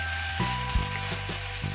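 Chopped onion hits a hot pan of toasted spices for a sweet potato chickpea curry, setting off a loud, continuous close-up sizzle with a few brief crackling bursts as it settles in.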